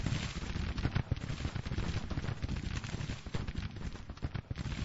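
Dense, continuous gunfire from massed brigades clashing in the Civil War strategy game Grand Tactician, Crawford's brigade against a Union brigade, with rolling musket volleys and crackling shots merging into a steady loud roar throughout.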